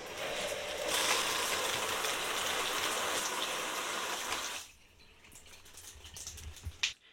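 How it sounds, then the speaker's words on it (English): A faucet turned on runs in a loud, steady hissing stream for several seconds, then cuts off abruptly into near quiet, followed by a few faint clicks and drips and one sharp knock at the end. "Let's turn on the water and see what happens."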